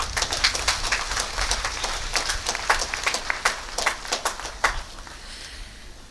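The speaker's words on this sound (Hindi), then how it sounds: "हम तालियां बजाएं।" Crowd applause at a martyrs' day memorial ceremony, many hands clapping in a dense, crisp patter that builds with sharp individual claps, then thins and fades toward the end.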